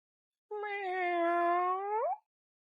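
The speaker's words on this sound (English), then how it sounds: "It was a soft meow." A kitten at the edge of woods beside a highway gives one soft, drawn-out meow that rises at the end, alone against silence.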